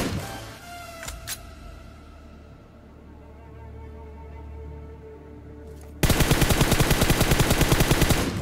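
Automatic gunfire spraying in PUBG Mobile: after a quieter stretch with a couple of isolated shots, a loud continuous burst of rapid, evenly spaced rounds erupts and keeps going to the end.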